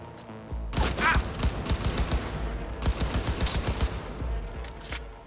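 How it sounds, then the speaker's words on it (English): Gunfire in the video game Cyberpunk 2077: dense bursts of rapid shots and automatic fire roll almost continuously after a brief quiet start, loud and close, with no talking. "The shooting already feels pretty good."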